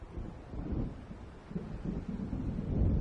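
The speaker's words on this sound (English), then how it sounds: "It seems there's a storm coming." Low, distant rumbles of thunder roll in as a storm approaches over open water in Alan Wake, mixed with wind noise and no voices.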